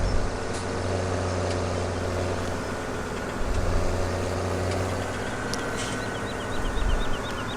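A tractor engine in Farming Simulator 17 drones steadily with a low idling hum, swelling slightly in a few spots and running alone throughout.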